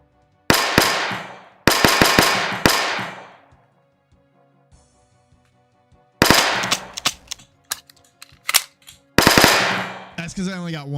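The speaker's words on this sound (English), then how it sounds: "I only got one gun that has a proper like sound effect on it" Gunfire from the zombie game Zomclave under development, several loud sharp shots in bursts of three with ringing tails, then a quieter stretch of scattered clicks before more rapid shots and a final burst.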